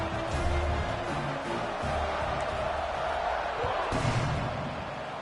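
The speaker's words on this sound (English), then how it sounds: "this crowd is feeling themselves after that last drive" Football stadium crowd at a college game before kickoff: a loud, sustained roar with swelling bursts of cheering and a few thumping accents.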